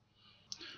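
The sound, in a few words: computer mouse double click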